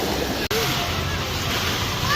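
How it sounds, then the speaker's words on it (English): Strong waves rolling in a water park wave pool, a continuous loud surf roar close to the microphone with a brief dropout near the start and faint background voices. "the waves are pretty strong right now here at the beach"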